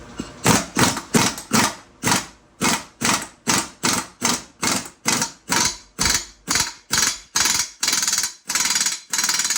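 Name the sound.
air-powered tool driving homemade socket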